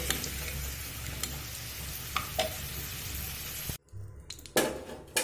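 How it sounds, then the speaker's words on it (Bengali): Potatoes fry in oil with salt and turmeric in a pan that was just used for frying chicken, giving a close, steady sizzle with clinks from stirring, a brief cut, and then a renewed burst of sizzling. "চিকেনগুলো সব ভেজে নিয়ে ওই তেলের মধ্যে আলুগুলো দিয়ে লবণ আর হলুদ দিয়ে আমি আলুটা ভেজে নেব।"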